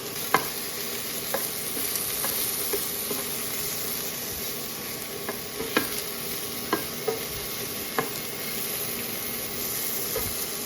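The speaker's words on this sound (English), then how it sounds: "meatballs and the mushrooms saute and sit for a while" Meatballs and mushrooms sauté in a pan in a tiny kitchen, giving a steady sizzle with a faint high whine, punctuated by repeated light spatula taps and scrapes, and no voices.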